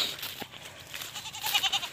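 A goat bleats on a small farm, a few quick wavering cries ending in a short tremulous run of bleats, moderately close over faint outdoor background.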